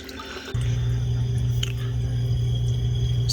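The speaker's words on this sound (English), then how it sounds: "we just got a bunch of these little bits of rock, so we'll just throw them in there" Small bits of rock are tossed into the water of an Innovative Marine SR-120 aquarium tank, landing with a sudden splash and then a steady watery wash with faint drips.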